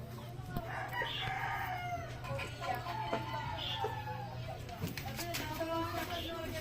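Gamefowl roosters of the Sweater Gilmore bloodline crow repeatedly at moderate distance, several overlapping calls rising over a busy yard background with talk and other clucks throughout.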